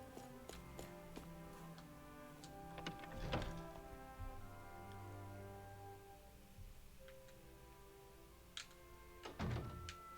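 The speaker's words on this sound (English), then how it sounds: "I always love the sound of hammers banging away" Hammers banging during crafting in the video game Tales of Arise, scattered metallic clanks and knocks in irregular bursts, fairly faint over a soft background drone.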